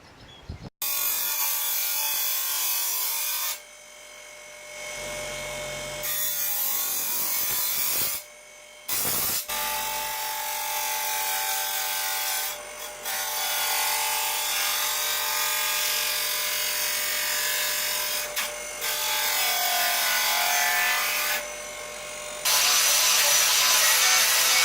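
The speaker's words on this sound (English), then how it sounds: "So now I just have to grind it down, sand it down" Grinding and sanding down a metal dish: a loud, harsh power-tool abrasion runs in long sustained passes, broken by short pauses where the tool eases off before biting into the metal again.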